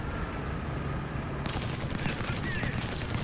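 A tank cannon shot in the War Thunder ground battle, with a T-54 in play, lands midway as a sudden loud crack and crackling burst over steady engine rumble, with no talking.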